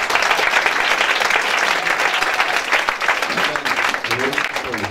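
Church congregation breaking into sustained, dense applause to acclaim the Lord, loud and continuous clapping from a large crowd throughout.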